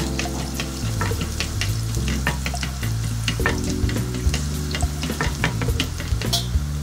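Chopped garlic sautéing in olive oil and melted butter in a pan, a loud close sizzle with frequent spatula scrapes and clicks over a low steady hum.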